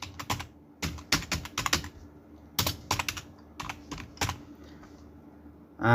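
Computer keyboard typing close to the microphone, in short irregular bursts of quick key clicks separated by pauses, with no voices.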